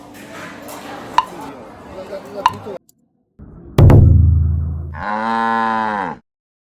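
A cow about to be slaughtered at a traditional village wedding feast in Yunnan, China, gives a loud, drawn-out moo near the end, after clattering knocks and outdoor background noise.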